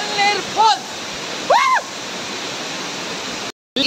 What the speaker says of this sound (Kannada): ಸೊ ಫೈನಲಿ ಆಗಿ ಎಳ್ನೀರು ಫಾಲ್ಸ್